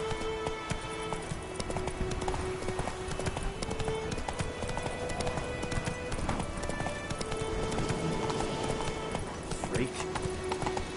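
Horse hooves clip-clop steadily at a gallop in The Witcher 3: Wild Hunt, a continuous rhythmic beat over game music, with a voice speaking briefly.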